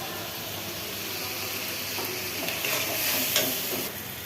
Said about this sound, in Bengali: এই যে হলুদ মরিচ দিয়ে ভালো মতন তাকে কষায় ফেলবো